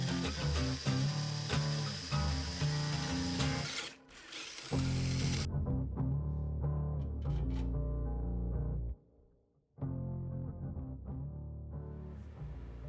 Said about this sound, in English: So got the initial hole drilled on the battery box